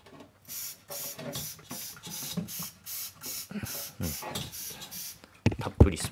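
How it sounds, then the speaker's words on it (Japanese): Alkaline electrolyzed water sprayed into the fish grill of a Panasonic IH cooking heater, a run of about ten short hissing trigger-sprayer bursts in steady rhythm, close and moderately loud, ending with some handling clatter. "たっぷりスプレーして、"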